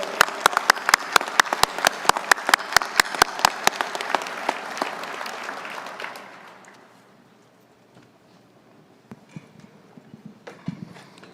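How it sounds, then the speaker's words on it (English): Audience at a military awards luncheon claps for awardees, crisp individual claps ringing out loud and fairly regular before thinning and fading out after about six seconds, leaving a quiet room with a few scattered sounds. "Let's have one more round of applause for our awardees today."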